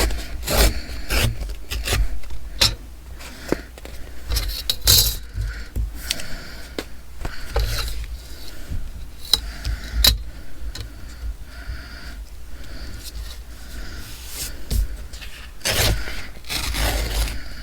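Paper is torn to size for ephemera in a run of crisp, irregular rips and scratchy rubs, with sharp snaps scattered across a long, close stretch and no talking.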